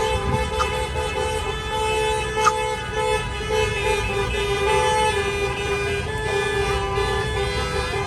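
A wedding car convoy in Germany honks its horns in sustained, overlapping tones, with a steady rumble of traffic underneath for the whole stretch.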